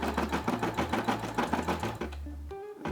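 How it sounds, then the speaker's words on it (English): A Brother SE600 embroidery machine stitching out the white part of a Tommy Hilfiger logo gives a fast, steady rhythmic needle chatter close up, stopping abruptly near the end and leaving a brief mechanical whir. "So it's stitching out the white part."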